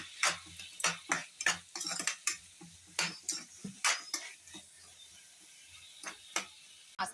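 Onions sautéed with rock salt in a pan for a chicken pulav, giving repeated scraping and stirring clatter in steady bursts with a faint sizzle underneath, close by and with no talk.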